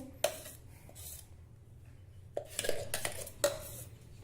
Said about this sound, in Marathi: यामध्ये आता आपण हे घालू गाळून आपल्याला ह्याचा रस काढून घ्यायचा आहे